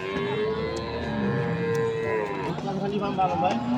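A single long, loud dairy cow moo rises and falls over a few seconds, with faint crowd noise behind it at a cattle market in Thakurgaon, Bangladesh.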